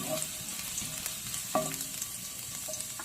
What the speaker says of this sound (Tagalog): Gisa lang natin saglit yung ating luya.